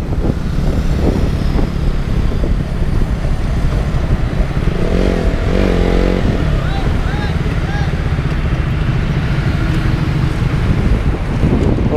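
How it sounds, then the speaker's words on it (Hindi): Air blasts through an open helmet visor on a Sunday motorcycle ride, a loud, constant roaring rush of wind that buffets the microphone with engine rumble beneath it throughout. "एयर ब्लास्ट में भी आ रहा हो क्योंकि मैंने वाइज़र ओपन कर रखा है अभी।"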